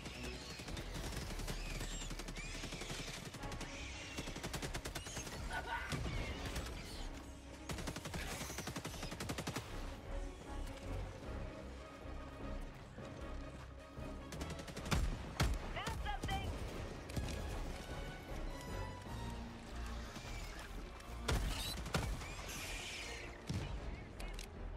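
Revolver gunfire from the Senator in Helldivers 2, shots cracking throughout amid a dense, continuous battle din of other weapons and explosions, with occasional talk mixed in.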